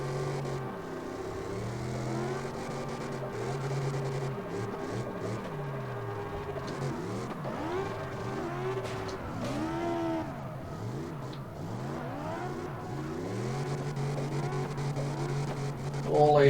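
A V8 drift car revving at redline in CarX Drift Racing Online 2, with a loud, sustained engine whine that sweeps up and down repeatedly as the revs bounce against the limiter, alongside other cars' engines.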